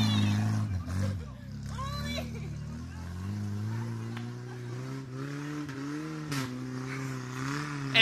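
A motorcycle rides past on a dirt track at an off-road 4x4 meet near Marbella, its engine note droning steadily and shifting as it passes, under ongoing talk.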